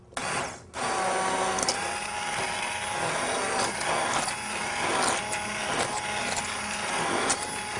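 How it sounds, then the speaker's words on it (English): An immersion blender whirs through a pot of mutter paneer curry with a steady close buzzing drone, marked by small repeated surges and clunks as the blade shifts in the thick mixture. "we're going to use an immersion blender"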